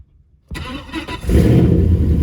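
A 1975 Buick convertible's engine cranks briefly without a jump start, then catches and settles into a loud, steady running rumble close by.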